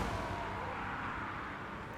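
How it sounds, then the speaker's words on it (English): A warp lightning cannon fires in a Total War: Warhammer battle, a dense, steady roar of crackling energy and booming that holds loud and even for the whole stretch with no pause. "Warp lightning cannon opening fire"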